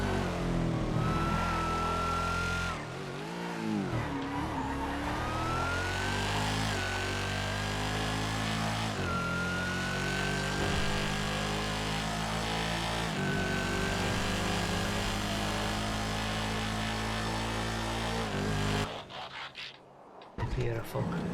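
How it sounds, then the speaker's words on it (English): A high-revving sports car engine in a video game screams and climbs through gears, dropping briefly before surging again, loud and continuous until a sudden cut near the end. "listen to the sound of this car"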